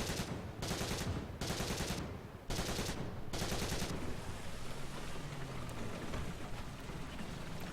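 Rapid bursts of a tank's coaxial machine gun in War Thunder, fired at a Ju-87 aircraft from a British tank, loud and close in four or five sharp strings, followed by a lingering rumbling wash of battlefield noise.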